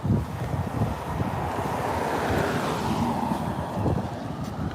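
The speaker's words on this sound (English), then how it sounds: "Wind is still blowing this hoodie off." Steady, loud wind gusts buffet the microphone outdoors during a fitness walk, a continuous rumbling roar with no voices.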